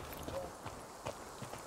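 Faint hooves clip-clop in a loose, uneven rhythm from a horse in the Rainbow Six video game, a few soft thuds heard at a distance beneath low background game noise.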